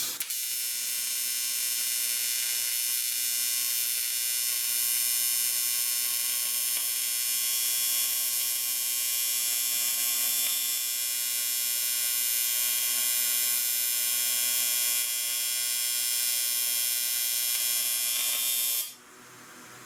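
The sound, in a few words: TIG welder welding aluminum boat ladder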